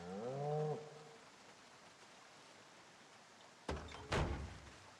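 A single cow moos briefly at the start in Project Zomboid, followed by quiet hiss and then two sharp door-like thumps near the end.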